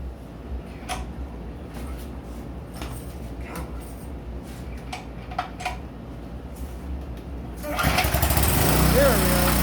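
A temperamental, fuel-hungry power washer engine is cranked in a garage; after several seconds of quieter rattling and a voice speaking, the motor catches and roars into a loud, steady running drone.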